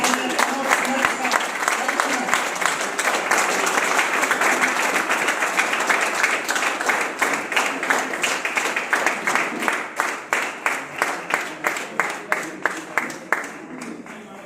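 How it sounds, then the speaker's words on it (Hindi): An audience at a celebration event in Kaithal, India, applauds, loud and sustained, with dense clapping that slowly thins into fewer, more distinct claps toward the end. "मैं आप लोगों की पुनः एक बार जोरदार वाली तालियां चाहता हूँ"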